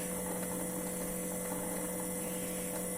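A Yeedi Mop Station robot vacuum dock washes its mops, producing a constant mechanical whir with steady tonal hum and faint rattling, unchanging and close for the whole stretch.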